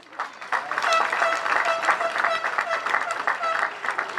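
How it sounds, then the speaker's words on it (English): Graduation ceremony crowd applauding a teacher honored with a Teacher of the Year award, sustained loud clapping from many people filling the hall, with faint voices and tonal sound mixed in beneath. "You can give this person a round of applause."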